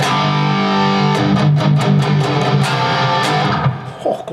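Electric guitar played through a Fractal FM3 effects unit with reverb: sustained distorted chords, then a run of sharp picked attacks ringing out into a reverb tail, loud and close.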